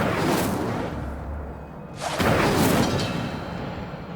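An Incendio fire spell in Hogwarts Legacy bursts with a whooshing, booming blast midway through, following an earlier rushing swell, with no voices over it.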